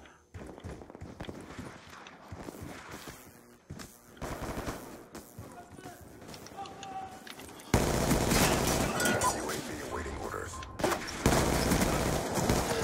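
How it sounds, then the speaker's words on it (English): Automatic gunfire in the Call of Duty Black Ops 2 video game, rapid bursts and footsteps building into a loud, sustained volley of close shots during the second half. "Did you see how many bullets I put into him?"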